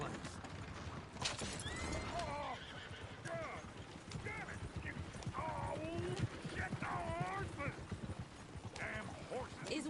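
Horses in Red Dead Redemption 2 whinny repeatedly and clop their hooves over a busy outdoor scene, with people talking throughout.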